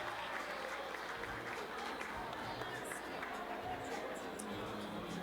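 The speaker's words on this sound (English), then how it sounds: "How about a big round of applause for Logan?" A crowd at a costume and beard contest applauds an entrant, steady dense clapping and cheering blended with crowd babble, continuous and fairly distant throughout.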